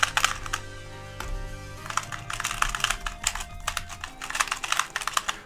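Loud, rapid plastic clicking and clacking from a MoYu Meilong 2x2 speed cube being turned quickly by hand, in dense bursts with brief pauses, close up and with no talking.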